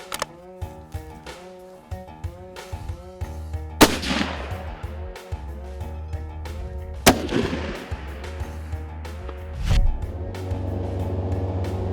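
Two loud hunting-rifle shots using 150 grain .270 Fusion ammunition, each a sharp crack with a rolling echo, set against steady music throughout.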